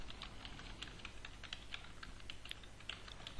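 Quick, steady typing on a computer keyboard, a continuous patter of light clicks heard close and quiet over a faint room hiss, with no voice present.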